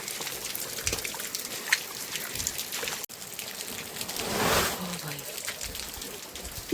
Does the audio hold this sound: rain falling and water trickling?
yes